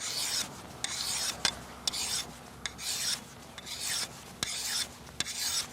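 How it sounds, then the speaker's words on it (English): A file rasps flat across the underside of a pruning tool blade to take off the burr, about eight steady back-and-forth strokes close by, each ending in a small metallic tick, with no talking. "Now if you have a burr, just slightly go across the bottom, absolutely flat, and remove the burr."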